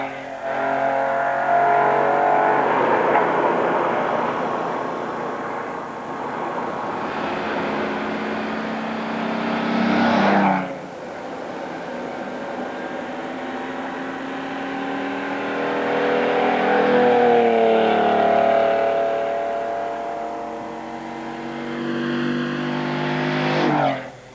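A classic open Ferrari 166 sports car drives at the Goodwood Festival of Speed, its engine loud and close, revving up through the gears with sharp shifts and rising and falling pitch, and no talk.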